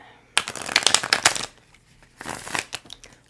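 Tarot cards being shuffled by hand: a dense run of rapid papery riffling for about a second, then a brief pause and a second, softer flurry of card shuffling, close and alone.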